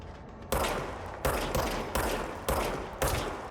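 Gunfire from the Control video game, five sharp bursts about half a second apart, each loud and close with a quick decay, no talk over them.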